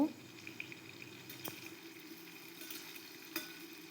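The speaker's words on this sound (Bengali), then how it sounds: "সেম তেলেই আলু ভেজে নেব।" Potatoes frying in reused oil in a home kitchen, a faint, steady sizzle with a few soft clicks of stirring.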